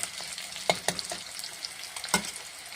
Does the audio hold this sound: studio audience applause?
no